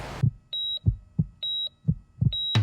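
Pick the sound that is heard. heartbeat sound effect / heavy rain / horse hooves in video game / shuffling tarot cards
heartbeat sound effect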